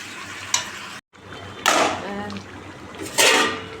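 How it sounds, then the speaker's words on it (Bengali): Meat sautéing in a pan with spices, loud sizzling surges in bursts as it is stirred and tossed, with a short silent break early on. "এখন মাংসটা দিয়ে দিলাম এবার আমি কষাবো"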